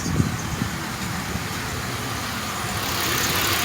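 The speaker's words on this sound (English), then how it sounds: "I've got the exhaust all done. Looking good. Sounds pretty good." Engine of a rusty 1997 Pontiac Grand Prix GTP two-door coupe with a freshly installed exhaust, idling steadily with a low rumble, a few small blips early on and the drone swelling slightly toward the end.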